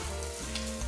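An egg sizzling in a pan as it finishes frying, a brief, even, close hiss of hot fat with faint crackle and no talk.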